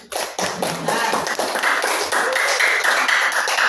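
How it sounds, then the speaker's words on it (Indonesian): Classroom applause for a student named Randy: a burst of many hands clapping, starting abruptly and holding as a lively, fairly loud patter for a few seconds. "Berikan aplaus kepada Randy"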